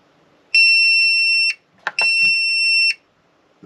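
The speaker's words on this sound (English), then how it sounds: "then it'll beep to let you know that it's done" Two sustained electronic beeps from an RC battery discharger signalling completion, each about a second long and loud, separated by a short pause with a few faint clicks.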